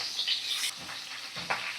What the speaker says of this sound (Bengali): একদম মিডিয়াম ফ্লেমে রেখে দিয়ে মাছগুলোকে ভাজছি